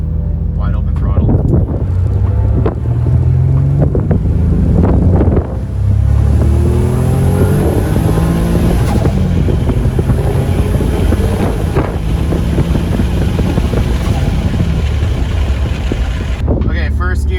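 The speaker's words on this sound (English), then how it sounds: "Let's try to get this log from second gear. Wide open throttle." A turbocharged Infiniti G35 pulls hard at wide open throttle in second gear, its loud engine roar rising steadily in pitch with heavy wind buffeting, a voice speaking briefly over it.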